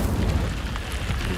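Incendio fire spell cast in the video game Hogwarts Legacy, a short burst of booming, rushing flame with a dense low rumble that holds steady for about a second and a half, with no talking.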